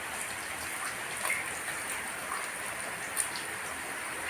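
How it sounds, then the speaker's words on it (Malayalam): Rain falls outside, a faint, steady patter with a few distinct drops over a soft wash, heard from indoors with no voices. "പുറത്ത് നല്ല മഴ."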